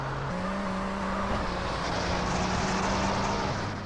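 A steady, droning car engine hums in GTA San Andreas, moderately loud and continuous with a slight pitch shift partway through, alone without talk.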